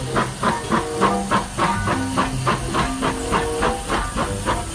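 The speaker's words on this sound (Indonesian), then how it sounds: "Widih, lihat, sepertinya ada lokomotif kereta api." A steam locomotive hisses steadily with rhythmic chuffing bursts repeating roughly every half second, loud and close, with no talking over it.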